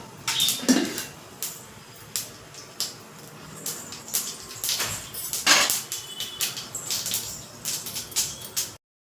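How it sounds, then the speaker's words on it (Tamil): Mustard seeds crackle and spit in hot oil in a pan while cooking, a close, irregular patter of sharp pops and sizzles repeating over several seconds. "பாருங்கள் ஃப்ரெண்ட்ஸ், கடுகு போட்டாச்சு."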